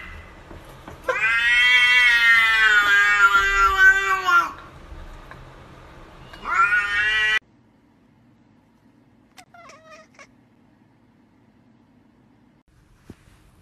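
Cats let out long, drawn-out meows and yowls, one extended wailing cry followed by a shorter one, loud and close, then fainter small sounds in near silence.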